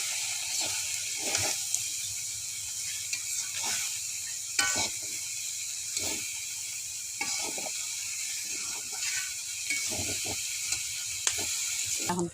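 Cabbage with shrimp cooks in a pan, heard as a continuous close sizzling hiss broken by repeated scraping stirs and clinks of the spatula, with no talking.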